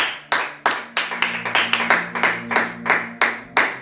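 A church congregation clapping in rhythm after a scripture reading, a series of sharp, evenly spaced group claps close by, about two per second, with no speech over them.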